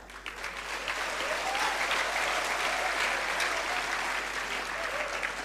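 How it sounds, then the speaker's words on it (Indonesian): An audience at a public lecture at a land-administration college in Yogyakarta breaks into sustained applause, a steady, even wash of many hands clapping at moderate distance, with no talk over it. "Tepuk tangan"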